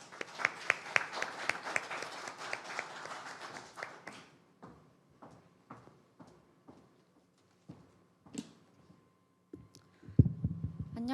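Audience clapping to welcome a student speaker at a youth forum in Ulsan: dense, lively applause for about four seconds that thins into scattered, sparse claps and fades near silence.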